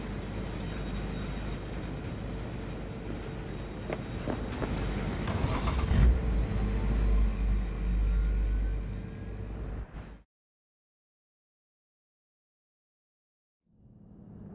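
A car drives in the video game Cyberpunk 2077, giving a steady low engine rumble with road noise that rises slightly midway, then cuts abruptly to silence before faint sound returns at the end.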